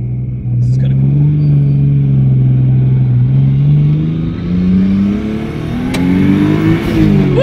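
A car engine revs under light throttle, its note climbing and falling in smooth sweeps, loud and close, with brief voices over it.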